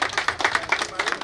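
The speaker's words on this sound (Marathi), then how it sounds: "जोरदार टाळ्या व्हायला पाहिजे माझ्या अतुलसाठी." Audience clapping as applause for Atul at a devotional gathering, a brief burst of steady rhythmic hand claps close by, mixed with a speaking voice.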